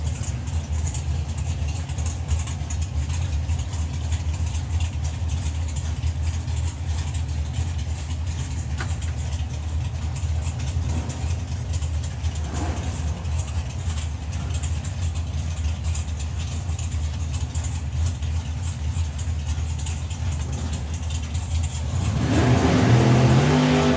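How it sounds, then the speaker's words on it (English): Two drag racing cars at a national finals meet rev hard against their throttle stops, a loud, steady engine roar throughout that swells louder and rougher near the end. "Heard the difference in throttle stops between the two cars there."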